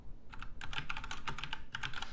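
Fingers type quickly on a computer keyboard, crisp close keystrokes coming in fast uneven bursts with a brief pause between runs.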